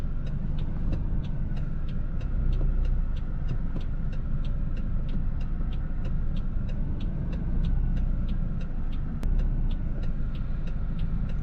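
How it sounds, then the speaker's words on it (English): Steady low engine rumble of a car reversing slowly, with a faint regular ticking running throughout. "Put the car into reverse, turn all the way to the right"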